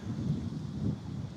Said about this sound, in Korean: 바람이 불어오는 모양새가 영 심상치 않습니다